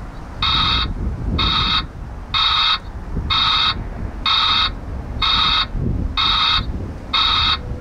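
A Rivian electric Amazon delivery van's reversing alert sounds eight evenly spaced electronic tones, each about half a second, over low outdoor rumble.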